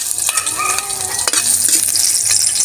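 Garlic sautés in a hot pan for a ginisang monggo, with a loud, steady close sizzle and brief stirring scrapes, and no talking.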